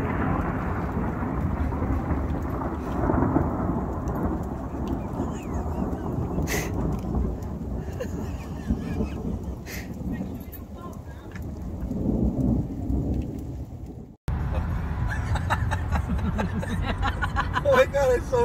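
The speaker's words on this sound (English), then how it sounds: "This husky hears thunder for the first time and got really confused about it." Steady rain and rumbling thunder from a storm fill the whole stretch, loud and continuous, with a brief cut near the end before the downpour resumes.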